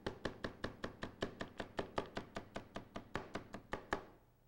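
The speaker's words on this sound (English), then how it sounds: "And if you're going to be chopping, what you want to do is just get a nice, steady beat" A kitchen knife chops vegetables on a cutting board in a steady, even rhythm of about twenty crisp, close strikes, stopping near the end.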